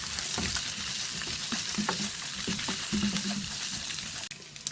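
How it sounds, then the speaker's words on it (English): Spices and poppy seeds stirred in a frying pan for veg kurma, a lively sizzle with repeated scraping strokes of a spoon, close and steady before a final clack. "Give it a mix."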